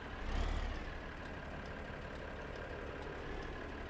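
Tractor engine idling in the video game Farming Simulator 15, a steady low diesel rumble that swells briefly at the start and then holds even, with no talk.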